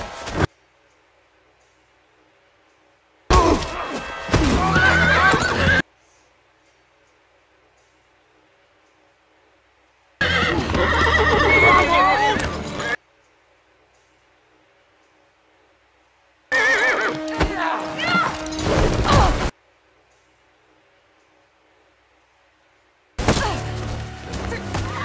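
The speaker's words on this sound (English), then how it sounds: "they're still out here trying to steal this poor horse Beric." A horse from the series Rings of Power neighing and stamping, heard in four separate loud bursts of whinnying and hoof thuds, each lasting a few seconds, separated by near silence.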